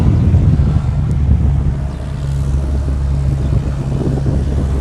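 Parked aircraft N111GA running an engine at Honolulu airport, a loud steady low drone with a constant hum, heard nearby.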